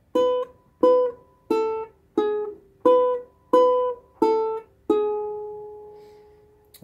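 Ukulele picks out the opening riff of a song, alone: seven crisp, evenly spaced plucked notes, then a final note left ringing and slowly fading, close and clear.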